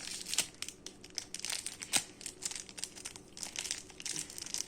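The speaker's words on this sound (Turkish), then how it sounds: "Sırada yine bir Brawl Stars kartı bizi bekliyor. Açıyoruz." Brawl Stars trading card pack wrapper being torn and crinkled open by hand: close, quiet, continuous crackling and rustling of thin foil plastic, with sharper snaps scattered throughout.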